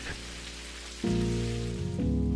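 Rain falls outside in the video game Necrobarista, a soft, continuous patter beneath piano-like music chords that step up in loudness twice.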